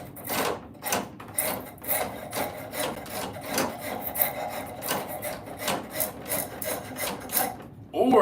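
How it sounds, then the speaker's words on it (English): A wood rasp files down the side of a wooden piece in repeated rough, scraping strokes, close and fairly loud, each pass about half a second long in a steady back-and-forth rhythm. "just gonna wood rasp this down"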